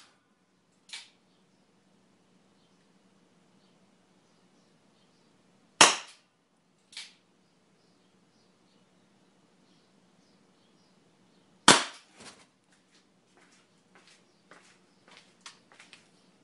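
A Colt Anaconda revolver loaded with hot glue bullets fires three sharp shots, the second and third much louder, separated by several seconds of near silence, with a few softer clicks and knocks afterward.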